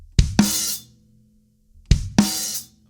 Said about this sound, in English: you're going to hit the snare and the open hi-hat together